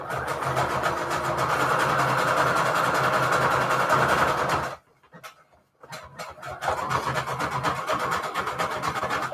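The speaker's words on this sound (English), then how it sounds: "I'm using the longest, widest zigzag stitch I can. And let's get this sewn on here." A sewing machine runs a long, wide zigzag stitch on fabric, a close, steady mechanical whirring that stops for about a second, then resumes in short bursts before running continuously again.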